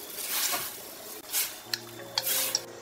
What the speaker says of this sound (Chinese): 水开后下入面条